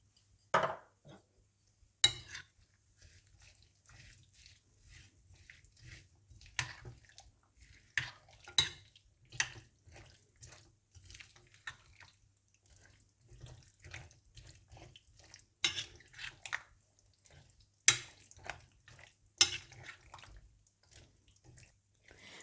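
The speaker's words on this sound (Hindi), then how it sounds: "भुना हुआ सफ़ेद ज़ीरा, चाट मसाला, कुटी लाल मिर्चें, और नमक डालकर अच्छी तरह से मिला लें" A spoon mixes roasted cumin, chaat masala, crushed red chilli and salt into dahi boondi, giving soft, scattered clinks and wet scrapes in a bowl, quiet and irregular with pauses.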